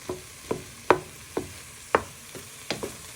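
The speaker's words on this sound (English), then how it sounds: "we're just stirring our tomatoes in so they go nice and soft" Tomatoes being stirred in a hot pan to soften for Moroccan chicken, with about eight evenly spaced spoon scrapes and clacks over a faint sizzle, close and alone.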